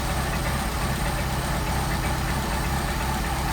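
A Mercedes 190SL engine fed by Solex carburettors runs steadily and loudly close by, a continuous low rumble that holds throughout with the throttle flipped up to a higher idle, and no voices over it.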